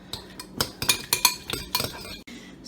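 A utensil chopping and stirring a Jello cup, a string of light clinks and taps against the plastic cup in an irregular rhythm, close and fairly crisp.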